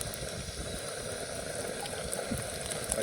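Green chilies frying in oil in a pan while cooking poha, a steady soft sizzle and bubbling crackle, close and fairly quiet, with no talking.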